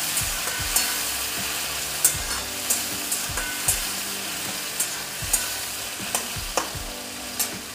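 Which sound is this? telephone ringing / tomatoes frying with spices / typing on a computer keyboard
tomatoes frying with spices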